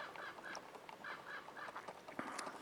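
Turkeys in a pasture give repeated, fairly faint honking gobbles and calls with an outdoor ambience behind them, heard without anyone talking.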